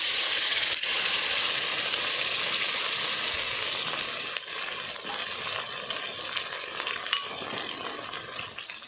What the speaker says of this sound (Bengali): হলুদ দিয়ে মশলাটাকে কষিয়ে নেব ভালো করে।